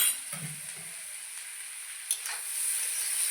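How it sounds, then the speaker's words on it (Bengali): Radish fries in mustard oil with a continuous high, airy sizzle, stirred with low scraping strokes at the start and a couple of light clicks later. "মূলা ভাজা করতে একটু সময় লাগে বন্ধুরা"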